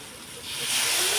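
Tamarind water poured into a hot pan of fish curry, with a steamy hiss that swells quickly and holds loud and close.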